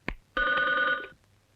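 A telephone bell rings in one sustained burst of about three-quarters of a second, loud and close, preceded by a brief click, in a Hindi Dharmendra action film scene.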